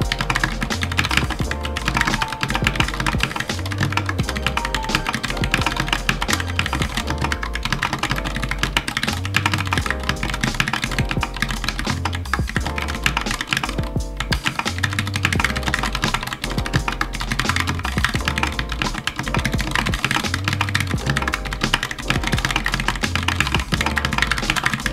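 Continuous rapid keystrokes on a computer keyboard in Dvorak layout during an accuracy-focused typing session, a steady dense clatter of key presses under a constant music bed, with no voices.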